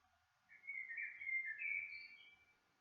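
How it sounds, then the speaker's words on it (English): Birds sing in the background outdoors, a single faint, distant whistled phrase that lasts a couple of seconds in otherwise quiet surroundings. "I like the bird song in the background."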